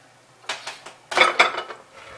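Hot glass canning jars for raw-packed English peas being set up on a counter: several close, bright clinks and knocks of glass against glass and hard surface, in two short bursts.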